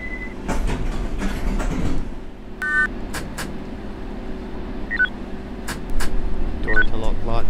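A London Underground Circle Line subway train pulls away in the World of Subways game, a low rolling rumble with short electronic beeps and tones over it and a heavier surge of motor noise toward the end.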